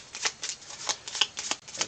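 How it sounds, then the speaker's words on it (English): A deck of event cards for the Lord of the Rings: Fate of the Fellowship board game is riffled and shuffled close up, giving a quick run of crisp, papery flutters in short bursts. "let's shuffle the events"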